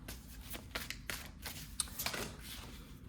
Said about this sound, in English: I'm gonna keep on shuffling.